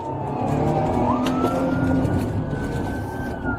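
Police car driving along, siren wailing over engine and road noise, one rising tone sweeping up and then holding, moderately loud with no talking.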